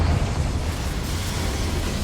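A Confringo spell explosion in Hogwarts Legacy gives a single rumbling fiery burst that decays into a low, sustained roar for a couple of seconds, with no talk over it.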